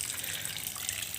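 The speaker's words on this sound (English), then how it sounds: "See, this is the drain out water." Water draining from an NFT hydroponics setup, a steady, close trickle and splash that flows without a break.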